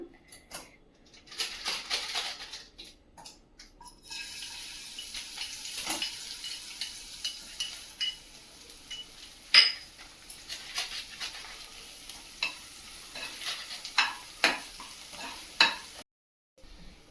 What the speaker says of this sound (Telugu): ఇప్పుడు ఆయిల్ హీట్ అయిన తర్వాత మనం ఈ పేస్ట్ యాడ్ చేద్దాం.